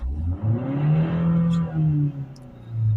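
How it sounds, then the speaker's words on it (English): A Ford Transit Connect 1.5 engine with a restricted particulate filter revs up under acceleration, its tone rising and swelling loudly up close, then falling back before climbing again. "Give it an acceleration up."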